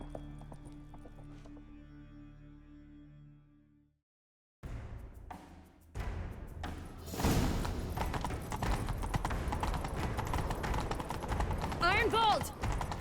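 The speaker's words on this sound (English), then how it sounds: "Grab a horse, we'll chase him down." Hooves clatter in a fast gallop as horses give chase in The Witcher 3 video game, rising in loudness after a brief silent gap and mixed with game effects and ambience.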